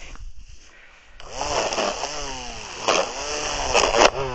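An Einhell mini grass trimmer spins up after a quiet start, then whines and rises and falls in pitch as it cuts into weeds, loud and close, with brief louder bursts where the blade bites.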